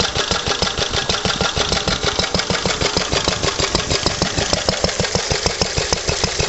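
A Lister D stationary engine runs a pump under light load, its single-cylinder beat thudding in a steady rapid rhythm, loud and close, with no talk.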